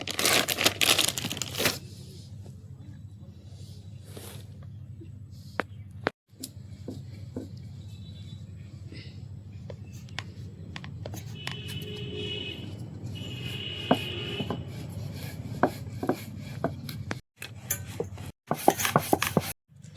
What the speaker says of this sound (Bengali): এবার আমি রুটিটাকে বেলে নেব, যার জন্য আমি কিছুটা আটা নিচ্ছি থালায়।